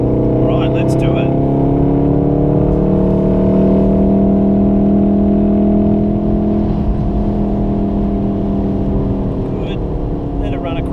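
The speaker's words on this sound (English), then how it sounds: "looking down the straight now, feed your power in." A Volkswagen Golf R on a race track at a trackday, its engine droning loud and steady with rising tonal harmonics as it accelerates down the straight, held throughout with no break.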